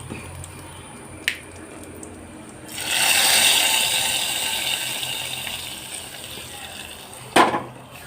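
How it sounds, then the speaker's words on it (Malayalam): A soft rushing pour of hot tempering with curry leaves into a tamarind curry, sizzling hiss swelling and fading over several seconds, framed by a couple of sharp knocks. "നമുക്ക് കറിയിലേക്ക് ഒഴിക്കാം"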